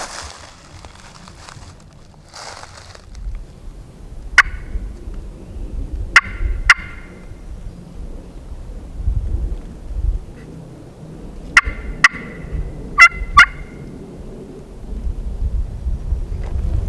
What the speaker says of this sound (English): There's 2 or 3 birds gobbling.